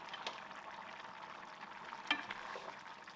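Octopus is stirred in a pot with olive oil, giving a steady soft sizzle and bubbling with occasional scraping clicks of the spoon, one sharper knock about two thirds of the way through.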